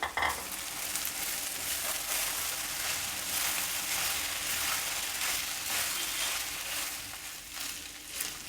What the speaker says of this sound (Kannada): ಉಳಿದಿರೋ ಅನ್ನನ ಈಗ ಇದರಲ್ಲಿ ಸೇರಿಸ್ತೀನಿ